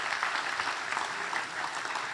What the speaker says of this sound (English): a big round of applause for all the team